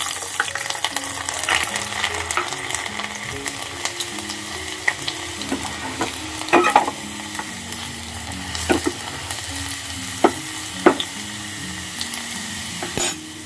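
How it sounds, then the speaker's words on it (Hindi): Garlic cloves frying in hot oil for a homemade knee-pain oil, a steady close sizzle with crackles and occasional pops, heard alone without talk. "तो देखिए हम इसमें लहसुन की कलियाँ डाल देंगे।"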